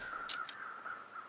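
A very quiet, distant crow caw in the video game The Long Dark rises briefly out of a soft, steady ambient hum.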